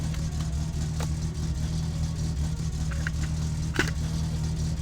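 A loud car engine idling and droning with no exhaust fitted in My Summer Car, a steady low rumble running throughout with a few faint clicks and knocks on top.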